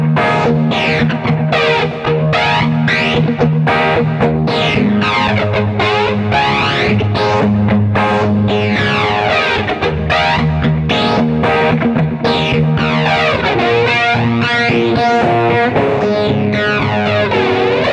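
Distorted electric guitar through a Yamaha THR10II amp in lead mode, playing a lead line, swirling with a sweeping flanger and washed in echo and reverb, loud and continuous.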